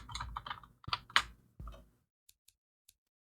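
Close computer keyboard typing in quick bursts for about two seconds, then three faint, isolated key taps.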